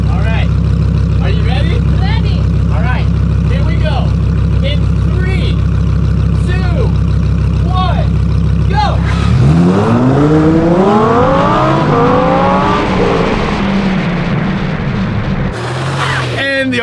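A Lamborghini and a 100 mph RC car race side by side, a steady loud engine drone giving way to a rising, sweeping high-pitched whine as the cars accelerate past close by.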